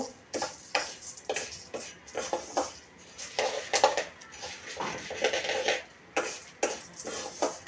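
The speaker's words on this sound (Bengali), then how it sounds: "তো এখন মুগ ডাল ভালোভাবে ভেজে নিব।" Mung dal being fried and stirred in a pan, a ladle scraping and clinking against the metal in repeated bursts of stirring, close and fairly quiet with no talk.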